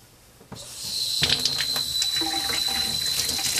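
Lukewarm tap water runs steadily while soap is rinsed out of a Cabbage Patch Kid doll over a bucket, a continuous close splashing hiss starting abruptly after a brief quiet moment.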